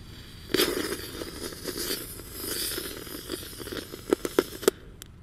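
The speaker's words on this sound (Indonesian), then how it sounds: "Selanjutnya ini ada gangsing jumbo pretek ya. Kita nyalakan 1 biji di dalam ember bosku." A jumbo spinning firecracker goes off inside a bucket. A rushing, hissing spin is followed by a quick run of sharp crackling pops near the end, with nearby rattling.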